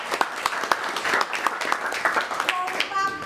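Classroom applause, with quick, irregular hand claps from a group of students under overlapping voices, fairly close and moderately loud.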